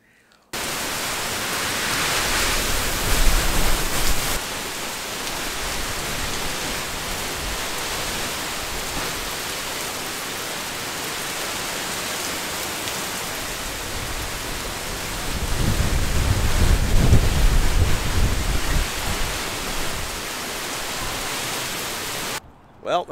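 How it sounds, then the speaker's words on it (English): Steady rain and strong gusting wind in Orlando just after Hurricane Ian passed, a continuous broadband wash with a louder surge of wind and rumble toward the end. "It's like light rain right now, but the wind's pretty strong still."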